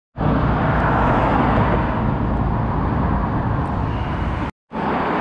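A Ferrari 458 engine catches after a fuel spill and roars steady and loud close by, then cuts out for a split second near the end before resuming.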